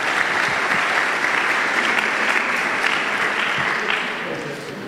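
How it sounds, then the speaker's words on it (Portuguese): A church congregation applauds the theatre team during a sermon, a dense, steady wash of many hands clapping at close range that holds for several seconds before fading slightly at the end. "Dá um aplauso ao Senhor pelo nosso equipe de teatro aqui."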